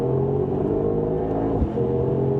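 A Mercedes-AMG GT 63 coupe's V8 engine holds a steady, loud rev from inside the cabin, with a brief dip and surge near the end.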